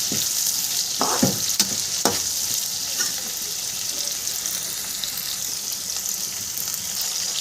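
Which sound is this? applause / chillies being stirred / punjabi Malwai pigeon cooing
chillies being stirred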